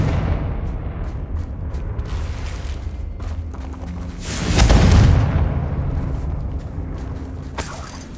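A Confringo spell explodes on a bridge in Hogwarts Legacy, a deep, swelling boom peaking midway, set among scattered sharp cracks and a steady ambient rumble.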